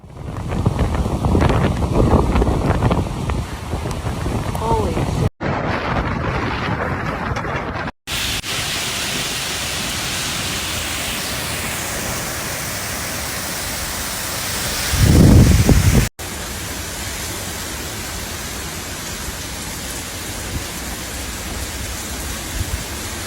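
Constant roaring wind from Tropical Storm Debby in Fort Myers, Florida, buffets the microphone with heavy rain hiss, a broadband rush broken by abrupt cuts and a louder low gust near the end.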